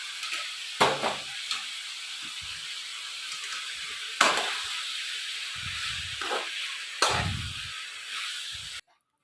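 Vegetables hiss and sizzle in a hot pan, with a few scraping stirs punctuating the steady frying sound.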